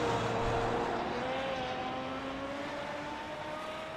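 An Aston Martin GT race car in a racing game at Mount Panorama holds a steady, droning engine note through a turn, its pitch slowly rising and falling with other cars faint behind.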